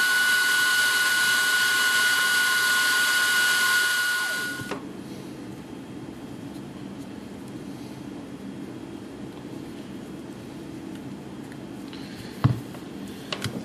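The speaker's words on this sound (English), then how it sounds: "getting the heat from the hair dryer there" A hair dryer blows with a loud, steady whirring hiss for about four seconds, then cuts off, leaving quiet room noise and a couple of small knocks.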